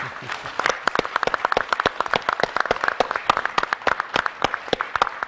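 An audience at an Atlantic Council conference applauds its panelists with sharp, distinct claps in a brisk, uneven rhythm, moderately loud and close, carrying on steadily throughout.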